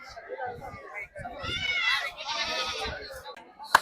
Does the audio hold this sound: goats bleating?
yes